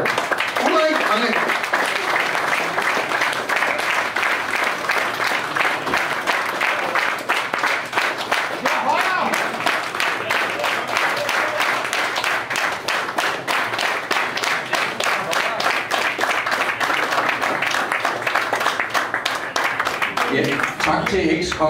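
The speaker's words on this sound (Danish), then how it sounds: "Ja, en klapsalve." A crowd gives a round of applause for Ulrik at a Danish shooting club gathering, honoring 24.8 years of work: dense, steady clapping that goes on throughout, loud and close, with some voices mixed in.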